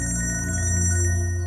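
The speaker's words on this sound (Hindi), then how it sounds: "आपका फोन बज रहा है" A mobile phone rings loudly in a crime-drama scene, a sustained electronic ringtone with pulsing tonal layers that carries on without a break and with no talk over it.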